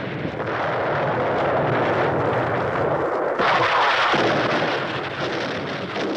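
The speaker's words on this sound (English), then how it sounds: "The distant thunder of cannon fire rumbled across the hills." A continuous low, rolling roar like far-off cannon fire, heavy and rumbling throughout, swelling slightly partway through with no voices.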